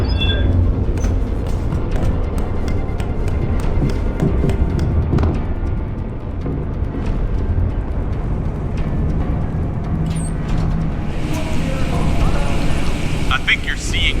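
Aircraft thrusters rumble steadily on final approach in Deus Ex: Human Revolution, a loud continuous engine roar filling the whole stretch with brief mechanical clanks and voices mixed in.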